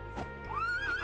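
A horse in the farming game My Time at Portia gives a single short, rising whinny, clear and close with no talk over it.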